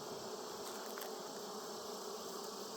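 Honey bees buzz in an opened hive, a dense steady hum close by with a few brief sharper passes of individual bees, and no voices.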